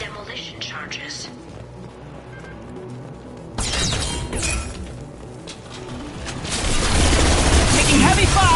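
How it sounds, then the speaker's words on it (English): Heavy gunfire in the Mass Effect video game begins as a quiet patter of shots, jumps to a loud barrage partway through, then builds into a dense roar of fire and blasts, with voices speaking among the shots. "Taking heavy fire!"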